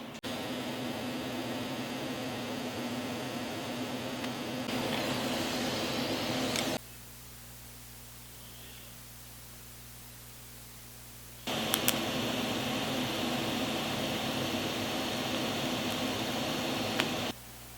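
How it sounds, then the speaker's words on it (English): TIG welding steel on an anvil stand, laying fusion welds without filler: a steady, close hiss and buzz of the arc that runs for several seconds, stops with a short quiet gap, then starts again and holds. "So I'm going to just TIG weld them."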